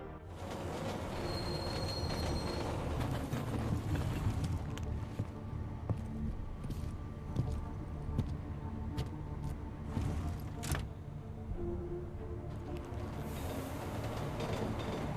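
A train runs in the video game Deus Ex: Mankind Divided, with a continuous loud rumble of rolling wheels, sharp metallic squeals and clattering track noise that swell and fade over about fifteen seconds.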